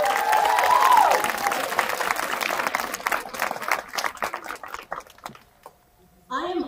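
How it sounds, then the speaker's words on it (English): Graduates and guests at Spanish Springs High School's 2021 graduation give a round of applause for faculty and staff, loud clapping that thins out and dies away after about five seconds, followed by a brief sound near the end. "give a moment of applause for them"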